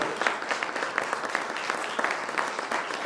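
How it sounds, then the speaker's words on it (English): Audience applause breaks out after a presentation at a panel discussion on AI in Kenya, a steady dense clapping from a room of people that holds for about three seconds at moderate level. "there has to be a round of applause for that"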